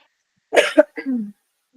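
A couple of short, close coughs in quick succession, followed by a brief throaty trailing sound, against silence.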